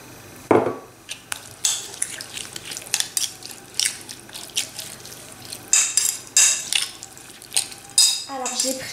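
A salad bowl shifts and knocks on the counter while an octopus salad is put together, giving intermittent close clatters, scrapes and clinks of bowl and utensils in an irregular rhythm.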